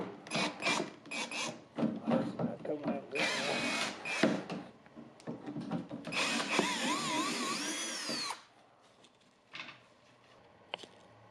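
A power tool whirs in several short bursts, close and fairly quiet, as screws are backed out of the painted top of an antique chest of drawers, with scraping and handling noises between runs.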